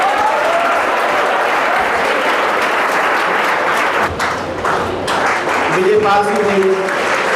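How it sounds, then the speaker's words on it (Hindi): Sustained, loud audience applause at a police traffic-awareness event in Aligarh hosted by a newspaper, continuing steadily as a presenter calls out guests' names over the clapping. "तालियां तो बजाते रहिए।"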